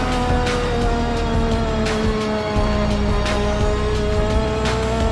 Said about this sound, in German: stehe ich auf dem Gas im sechsten Gang